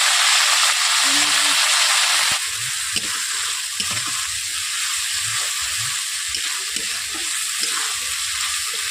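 Whole spices, ginger paste, tomato paste and bay leaves hitting hot oil for a dhaba-style matar paneer, with a loud hissing sizzle that then settles into steady frying, broken by stirring scrapes close by.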